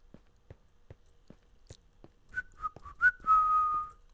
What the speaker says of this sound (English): Whistle while you work